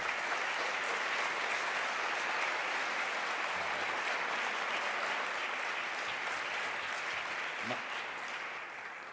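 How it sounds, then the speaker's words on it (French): Sustained applause from a large crowd at a speech, steady and dense clapping that fills the whole stretch before tapering slightly at the end. "You can applaud."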